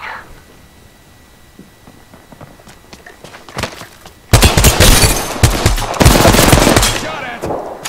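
Gunfire in the video game Apex Legends: quiet scattered shots and footsteps at first, then sudden loud rapid automatic bursts that rattle on to the end.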